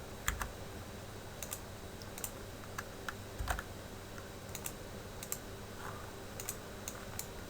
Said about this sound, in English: And again, use the arrow keys on your keyboard